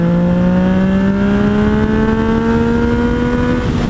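A 2017 Yamaha FZ09 (MT09) motorcycle accelerates hard toward 90 mph, its engine note loud and close, rising smoothly and steadily in pitch for several seconds with constant wind roar.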